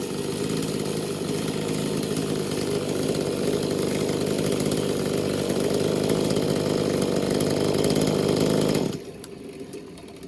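A small V-Modest 2511 chainsaw, a clone of the Echo 2511, runs loud and steady under cutting load for about nine seconds, then the engine note suddenly drops to a lower, quieter level.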